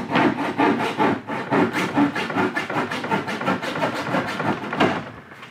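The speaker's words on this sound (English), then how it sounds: "So we're going to cut this" A hand saw cuts through plastic strapping, its rapid back-and-forth strokes rasping close and loud in a steady rhythm for several seconds, with a brief pause near the end.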